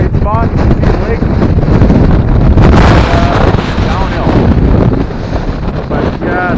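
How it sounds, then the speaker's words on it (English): Strong gusts roar steadily across the microphone on an exposed mountain saddle near a rock cairn above a lake, a loud continuous rumble with brief voices partly buried in the wind. "It's a little windy up here"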